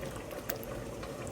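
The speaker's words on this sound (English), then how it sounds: "Have this on a very, very low heat, just to simmer and let the flavors start mingling to create a sauce." Chicken pasta sauce simmers on very low heat, giving a faint, steady bubbling and soft popping with a gentle continuous hiss and no voices.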